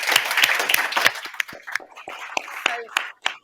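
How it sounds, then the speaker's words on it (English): An audience applauds at an awards ceremony, a crowd clapping that starts dense and thins into scattered separate claps, with faint voices beneath. "So round of applause for everybody."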